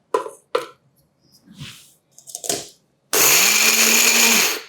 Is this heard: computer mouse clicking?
no